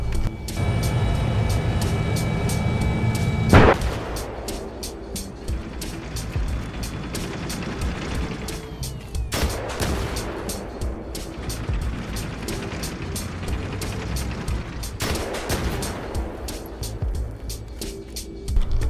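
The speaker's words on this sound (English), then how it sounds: "we will show you how normal RPGs works against the reactive armor" Rocket-propelled grenades from an RPG in Battlefield 3 strike a tank's reactive armor panels, a sharp loud impact burst at the start followed by two more heavy explosive hits amid continuous rumbling engine and battlefield noise.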